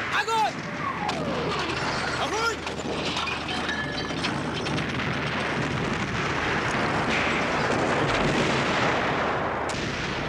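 Heavy battle gunfire and booming artillery blasts from the Battle of Stalingrad run continuously, dense and loud, with a dramatic voice talking over the din.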